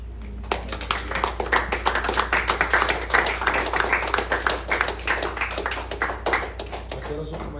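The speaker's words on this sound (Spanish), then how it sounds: "Un aplauso a Jesús." A church congregation clapping during a worship service, a rapid uneven patter of many hands that starts after a brief pause and continues steadily to the end, with a voice talking over it.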